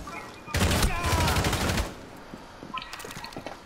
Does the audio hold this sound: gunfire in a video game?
yes